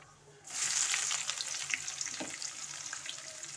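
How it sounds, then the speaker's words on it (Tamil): Sliced onion with cinnamon, cloves, a bay leaf and curry leaves hits hot oil for coriander rice, bursting into a loud, steady sizzle after a brief quiet start. "கொஞ்சம் கருவேப்பிலை, இது நல்லா வதக்கிக்கலாம்"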